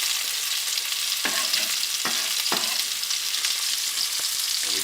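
Onions sauté with Louisiana crawfish in a pan, giving a loud, constant sizzle and frying hiss. A few sharp stirring scrapes break through the sizzle, and no one speaks.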